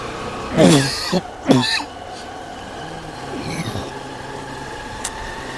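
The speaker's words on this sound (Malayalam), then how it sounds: "ചുമ വിട്ടു മാറിയിട്ടില്ല" A man with a lingering cough, out on a food trip in Ponnani, coughs two sharp, close bursts while a car engine hums steadily in the background. There is faint talk and some noise from outside.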